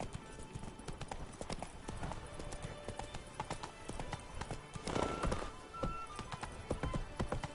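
Hooves of Roach, the horse in the video game Witcher 3, clip-clop in a steady, busy rhythm, fairly close and loud, with a brief louder burst near the middle, over game ambience and no speech.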